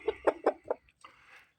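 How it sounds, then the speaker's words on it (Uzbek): A rooster, a roughly 4.5 kg breeding bird, gives four quick, close clucks followed by a softer, drawn-out call, in a quiet setting without talk. "ekranda ko'rinayotgan xo'rozimiz"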